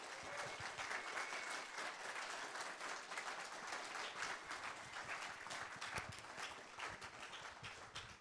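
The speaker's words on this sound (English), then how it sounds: "Could we give our guests another round of applause?" An audience at a televised Texas Railroad Commissioner debate claps for the guests, a dense, even spatter of many hands held steady for about eight seconds, fairly quiet and without voices.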